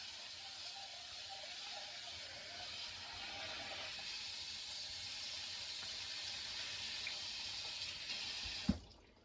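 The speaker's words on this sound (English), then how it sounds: "I'm gonna add a cup of rice on here, and I'm gonna rinse it out." Tap water runs steadily into a sink as a cup of rice is rinsed, a soft continuous hiss and splash that ends with a brief clunk near the end.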